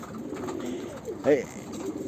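A pigeon gives a brief coo amid steady background noise, with a voice talking around it.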